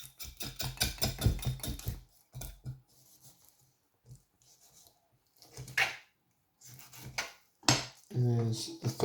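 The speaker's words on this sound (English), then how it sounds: "Use your knife just to scrape the meat away from the bone." A knife scrapes raw chicken meat away from the thigh bone, producing quiet, scattered scrapes and small metallic clinks with short pauses in between.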